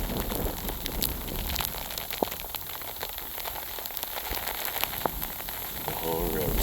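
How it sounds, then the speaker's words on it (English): Sleet pelting down during a thunderstorm over an ice-covered road, a steady dense hiss of icy pellets with scattered sharper ticks and taps close by, continuous throughout with no pauses. "And now we're getting covered in sleet."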